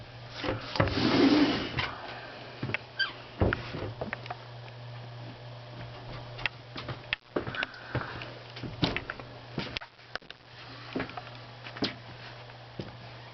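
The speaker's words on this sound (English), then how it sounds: "This is a pocket door right here that you can open and shut for privacy to the bedroom." Pocket door to the bedroom of a 1950 Spartan Spartanette trailer sliding open and shut, giving a series of close wooden knocks, rubs and light thuds spread over about thirteen seconds, with a steady low hum underneath.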